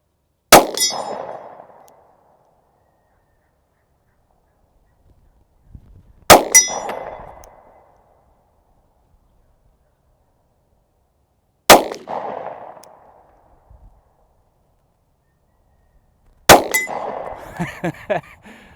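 A Diamondback DB9 Gen IV pistol fires at steel targets 45 yards away outdoors: four sharp metallic clangs, each with a short ringing tail, spaced several seconds apart amid quiet, with no speech.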